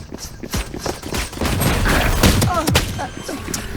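Rapid bursts of Valorant gunfire crackle in quick succession, fairly loud, with no speech over it.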